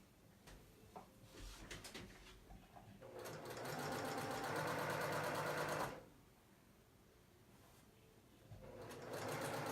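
A sewing machine stitches a seam in two bursts. A faint start is followed by a steady, loud whirring run of about three seconds, a quiet pause, then the motor starts up again.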